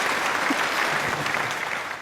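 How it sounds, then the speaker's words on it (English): Steady applause from a crowd, a dense wash of clapping that holds loud throughout and tapers slightly at the end. "Please, a round of applause for him"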